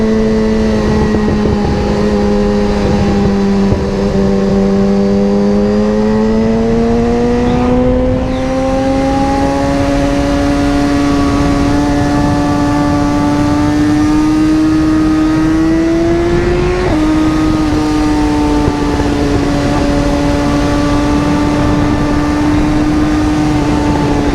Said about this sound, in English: I'm sorry, the motorcycle's not for everybody.